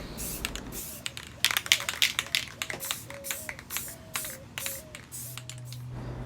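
Spray primer misted in a light coat onto a Mandalorian helmet: a series of short hissing bursts in quick succession, fairly close, with faint tapping and rattling between sprays.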